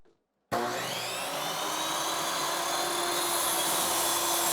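A saw rasps steadily through construction framing wood, starting abruptly after a brief silence and continuing loud and close for several seconds.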